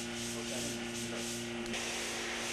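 Drywall being sanded without vacuum dust controls, a steady abrasive rubbing hiss with a constant mechanical hum beneath it, continuous and fairly close throughout.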